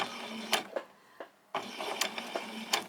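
A sewing machine stitches fabric for summer shorts in short close bursts of rapid needle clatter, broken by a brief pause and then resuming, with no talking.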